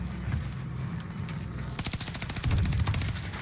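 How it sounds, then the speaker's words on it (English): Rapid automatic gunfire bursts out in a video game shootout during a duos or trios match. The shots come in a quick rhythmic stream that gets louder toward the end, over a low ambient background. "Keep shooting at him."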